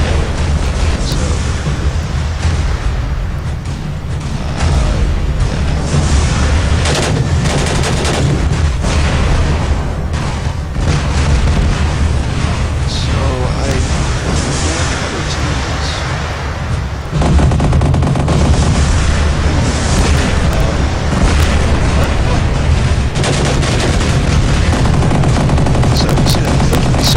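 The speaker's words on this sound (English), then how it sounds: "that's the new energy weapon." Sustained heavy weapon fire from a new energy weapon in a Shenzhen deathmatch video game, a dense, loud barrage of rapid shots and booms running continuously for the whole stretch, with a brief voice now and then underneath.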